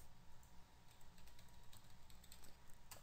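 Keys tapped on a computer keyboard while entering shell commands, a quiet, steady patter of light clicks with no voices.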